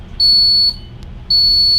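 A steady high-pitched electronic alarm tone sounds in two long beeps, each about half a second, separated by a short pause, loud and close.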